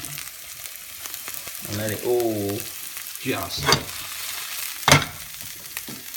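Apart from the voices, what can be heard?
chopped mushroom frying in a frying pan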